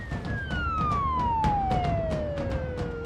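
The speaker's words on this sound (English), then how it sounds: "As the boys race lights and sirens" An Australian paramedic ambulance speeding with lights and sirens to a breathing-problem call: one long siren wail sliding steadily downward in pitch, loud and close, over a constant road-and-engine rumble with regular dull thumps and no voices.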